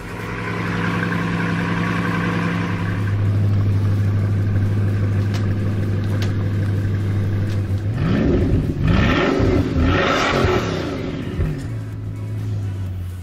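A Ferrari 6.5 litre V12 engine idles with a steady deep drone, then revs sharply several times in quick rising and falling bursts before settling back to idle, loud and close with no talking.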